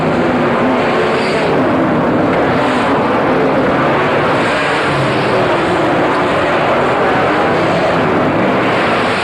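Speedway race cars roar around Liverpool City Raceway during the 1985 Grand Nationals feature race, a loud, continuous wall of engine noise with no talk over it.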